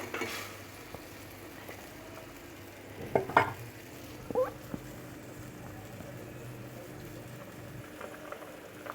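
Chapila fish and its gravy being gently mixed in a pan, with a low simmering bubble throughout and a short cluster of spoon scrapes and clinks midway.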